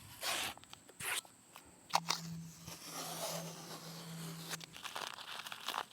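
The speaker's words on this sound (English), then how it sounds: "I'm going to take my painter's tape off" Painter's tape being peeled off a finished surface inside a tiny house build, quiet crinkling and tearing bursts in short separate pulls, with a faint steady hum underneath.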